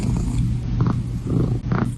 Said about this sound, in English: and she started purring